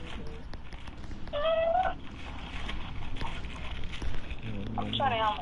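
A house cat meows twice, a drawn-out call near the start and another near the end, close and clear, with people talking in the background.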